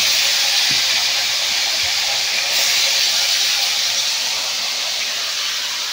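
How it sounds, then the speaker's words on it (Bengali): Hilsa fish frying in a pan gives a loud, steady hiss of hot oil that carries on without a break for several seconds. "মাছটা আমি ভেজে নেব। ইলিশ মাছ"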